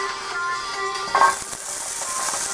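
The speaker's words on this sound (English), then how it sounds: "Ah, the sizzle, the sizzle, gotta love it." Vegetables sizzle steadily in a preheated pan with a bright, hissing crackle, a brief clatter of stirring partway through, close and continuous.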